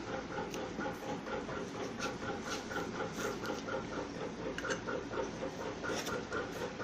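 A sewing machine stitches a straight seam along a kurti neckline, giving a steady, fast mechanical clatter that runs unbroken throughout at moderate loudness, with no voices.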